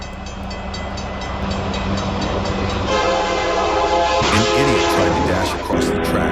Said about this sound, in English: Across the tracks while a train was passing.